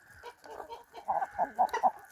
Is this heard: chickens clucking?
yes